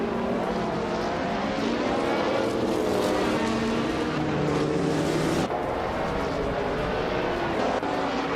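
A 1994 Ford Mustang Cobra in a racing video game launching off the line, its engine roaring loud and continuous with rising revs and an abrupt gear shift midway.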